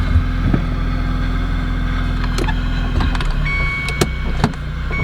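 A JDM car engine idling steadily in a close, loud, continuous hum that stays even throughout, with a few faint clicks and rattles and no talking.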